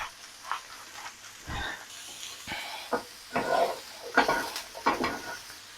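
Mushrooms sizzling and frying in a pan with salt for vegetarian tartlets, a steady soft hiss broken by several louder scrapes and clinks of stirring in the pan, close by.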